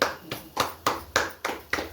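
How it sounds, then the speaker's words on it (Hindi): Slow rhythmic clapping at an event, seven evenly spaced sharp claps about a third of a second apart, fairly quiet and heard alone. "उनके लिए जोरदार तालियां।"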